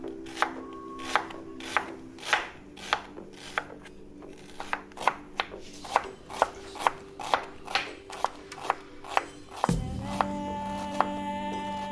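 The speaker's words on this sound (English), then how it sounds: "Now let's start by chopping the onions into small pieces" A knife chops red onion into small pieces on a board in steady, close, evenly spaced strikes, about two per second, ending with a scrape and a soft hum.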